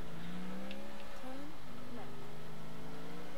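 A car engine revving in GTA, the video game, its pitch climbing in steady sweeps as gears change, heard at moderate level under a speaking voice.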